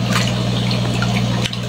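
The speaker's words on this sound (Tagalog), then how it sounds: "Tatanggalan ko pa to ng tubig kalahati para yun, ilipat natin." Water pouring and trickling steadily as it is drained out of an Australian red claw crayfish tank, a continuous close wet rush with a steady low hum underneath and a brief break near the end.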